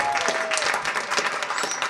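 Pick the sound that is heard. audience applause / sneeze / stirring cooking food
audience applause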